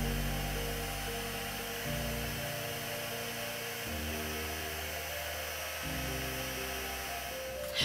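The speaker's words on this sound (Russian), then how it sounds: "лучше всего дать фену для эмбоссинга нагреться секунд 30" A small embossing heat gun blows steadily with an airy hum while warming up, its motor tone shifting slightly a few times, continuous and close at a low level.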